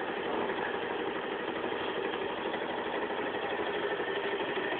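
A motorbike engine idles steadily and close by, a constant mid-pitched rumble that holds even for the whole stretch with no revving and no voices.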